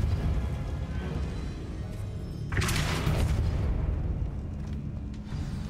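A Repulsor spell blast from the video game Hogwarts Legacy erupts as a booming whoosh over a constant dense game rumble, swelling briefly in the middle of the clip.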